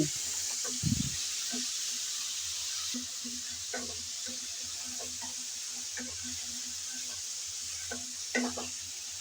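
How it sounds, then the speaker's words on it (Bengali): Crabs coated in salt and turmeric are stir-fried in a pan, giving a soft, steady sizzle with scattered light scrapes and taps from stirring, fairly quiet throughout. "আমি কিছুক্ষণ নেড়ে চেড়ে ভেজে নিলাম"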